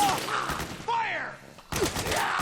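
Gunfire during a firefight in the video game Metal Gear Solid 4: bursts of shots mixed with shouting voices, loud and busy throughout.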